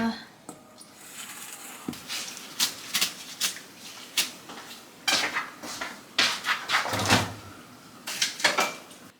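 A knife cutting yellowtail sashimi into bite-size pieces on a cutting board, a series of crisp close taps and chops in uneven bursts, fairly loud, with room ambience between strokes.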